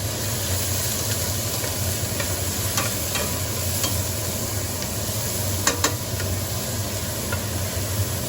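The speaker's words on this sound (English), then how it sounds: "sweating our vegetables gives the soup a little bit of sweetness" Vegetables sweating in a hot pot for minestrone soup give a steady, even sizzle with a few faint clicks of stirring, continuous and moderately quiet, no voices.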